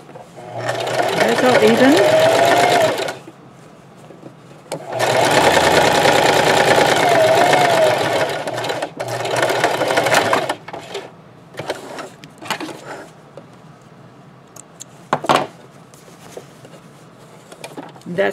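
A sewing machine stitches a seam on a two-colour scrub cap in two loud close bursts of rapid whirring, followed by fabric handling, clicks and brief speech.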